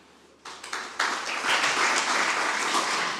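Audience applause after a speech at a peace, security and justice symposium in Musanze, Rwanda, starting with a few claps and swelling into steady, full clapping from a crowd.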